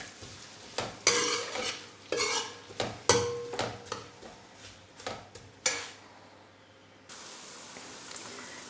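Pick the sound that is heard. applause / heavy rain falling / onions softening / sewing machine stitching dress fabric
onions softening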